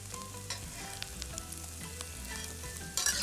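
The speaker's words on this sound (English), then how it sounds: "Stir fry for about half a minute." Egg and onion for shrimp fried rice crackle softly in a wok, a quiet sizzle broken by a few light stirring scrapes, with a brief louder clatter at the end and no voices.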